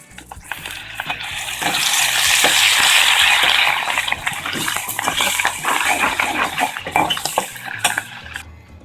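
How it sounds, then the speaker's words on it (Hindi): Garlic ginger paste hits hot oil in a pan for dhaba-style chana dal, bursting into a loud sizzle that settles into steady frying with clinks and scrapes of a utensil. "इसमें हम 1 खाने का चम्मच लहसुन अदरक का पेस्ट डालेंगे।"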